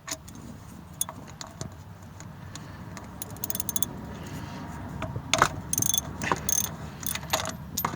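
Ratchet on a 3/4 socket working to loosen the oil filter of a 1961 or 1964 International Harvester Scout 80 barn find: faint metallic clicks and clinks, sparse at first, then denser bursts of close ratcheting toward the end.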